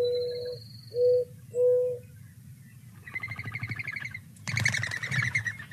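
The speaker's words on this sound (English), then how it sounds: "that's the sound I mentioned that happens when they take off. That's the air moving through their wings. Mourning dove." A mourning dove gives three soft, hollow coos, each about half a second long. A fluttering whistle from its wings follows as it takes off, then ends in a louder burst of flapping, all close by and with no talk.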